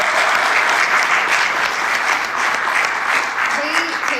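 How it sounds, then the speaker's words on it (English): Loud, dense applause from a crowd at a chamber of commerce breakfast, a continuous roar of many hands clapping with no gaps, and faint voices mixed in underneath. "Can we give them one more round of applause?"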